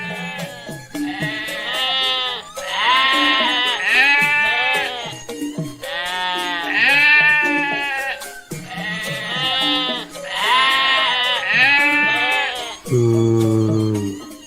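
Goats at a livestock market in an Ondel-Ondel Betawi cartoon bleat repeatedly and loudly, in overlapping wavering calls, with a brief voice near the end.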